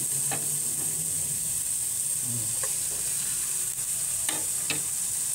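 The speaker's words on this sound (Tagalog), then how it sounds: "Binababad ko siya sa mantika. So, ilagay ko na yung ating garlic." Garlic frying in cooking oil gives a steady, bright sizzle with a few soft stirring scrapes, close and continuous, with no talking.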